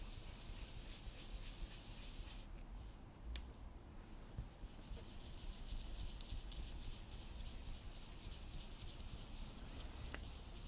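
A blending brush or sponge is rubbed across scrapbook paper in soft, steady scratchy strokes. The sound is close and quiet, with a brief lull partway through.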